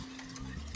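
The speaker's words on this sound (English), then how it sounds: "We're going to put this back on the stove again, whisking the whole time" A whisk stirs boiled custard in a pot on the stove, a brief, steady scraping and bubbling stir close to the microphone.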